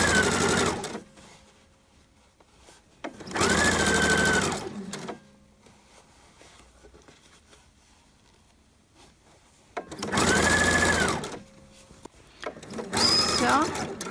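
A sewing machine stitches the collar of a Liberty fabric shirt in short bursts of fast, whirring needle action, separated by quiet pauses where someone speaks.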